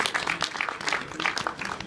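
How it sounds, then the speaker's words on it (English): Audience applause cast as a vote at a programming debate, a short burst of scattered clapping from a modest crowd with uneven rhythm, lasting under two seconds. "Please applaud."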